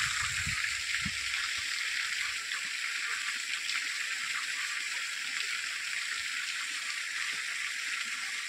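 Water flows in a steady, continuous rush close by, loud and unbroken throughout, with a few low thumps near the start.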